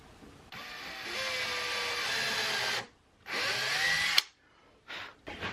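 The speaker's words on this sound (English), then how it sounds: "I need to put a tiny little pre-drill right here where these 2 holes are" A power drill whines steadily into wood for a couple of seconds, pre-drilling small screw holes for a workbench wood vise, stops, then runs again in a shorter burst, followed by brief clicks.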